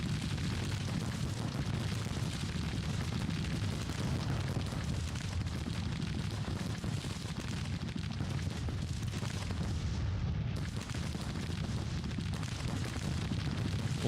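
Continuous Civil War battle din in the strategy game Grand Tactician, with rifled musket volleys and cannon booms rumbling together as a thick, steady roar, no voices.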